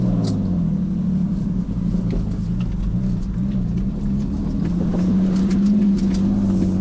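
A turbocharged BMW E46 engine with a blown engine drones steadily and loudly throughout, a deep rumbling note that rises slightly in pitch toward the end as it revs harder under acceleration.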